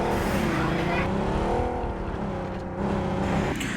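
A buggy in the BGMI battle royale game drives along with a steady, loud engine drone that shifts pitch slightly as it moves, with no speech over it.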